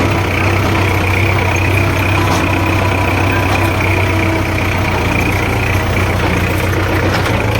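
A tractor engine idles steadily and loudly in a farm field, a continuous low rumbling chug with no speech.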